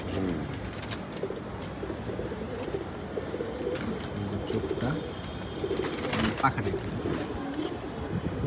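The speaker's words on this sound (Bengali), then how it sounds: "চার নম্বর আমার বাবরা বাচ্চা বাবরা কবুতর" Babra pigeons kept for racing tournaments coo in a low, continuous rumble from several birds at close range, with occasional wing flutters and someone talking over them.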